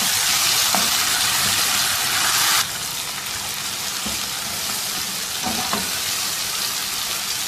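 Onions and tomatoes fry in a pan with a loud, continuous sizzle and scraping stirs. The hiss drops noticeably in strength partway through and then carries on more quietly, with a few soft clinks, and no voices.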